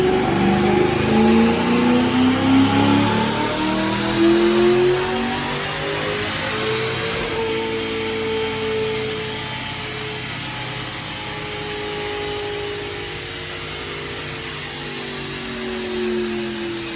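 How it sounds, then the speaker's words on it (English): A supercharged 2006 Ford Mustang automatic with cams and a Paxton blower roars through a dyno pull, engine note climbing loudly with rising whine, then easing off into a steady lower drone. "So let's make that dyno pull right now, see where we land."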